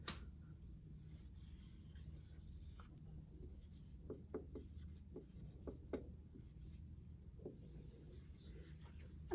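A pen draws a squiggly line on paper, making faint, close scratchy strokes that come in a quick series of short bursts against a quiet room hum.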